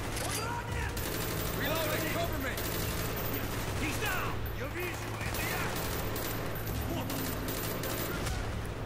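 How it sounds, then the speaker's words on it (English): Rapid bursts of gunfire in Call of Duty: Black Ops, including heavy shotgun blasts, over a constant electronic hum and background game effects. "That had to be a shotgun."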